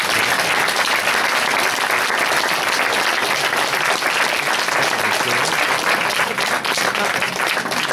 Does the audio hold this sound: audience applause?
yes